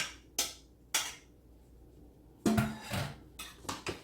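Rice dressing stirred in a pot, with several distinct metal spoon clanks against the pot separated by quiet gaps, then a cluster of scraping and knocking near the end, close and moderate.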